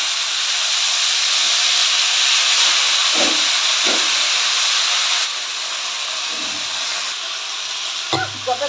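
Water spinach greens hitting hot oil with dried red chilli and five-spice seeds, giving a steady, loud sizzling hiss that runs throughout, with a few faint clinks near the end.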